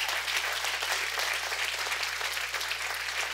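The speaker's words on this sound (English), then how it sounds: "Give God a big hand clap for that." Congregation in a church claps throughout, a continuous dense wash of applause heard alone, with a low steady hum beneath it.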